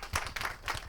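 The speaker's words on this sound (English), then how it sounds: "now a big round of applause to Sujan." A brief burst of audience applause at a talk on applying AI to the blood supply chain, several quick claps rising and fading in under a second.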